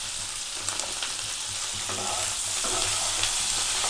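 Cauliflower pieces frying in a pan with oil, a loud, dense crackling sizzle broken by occasional scraping stirs, close and continuous.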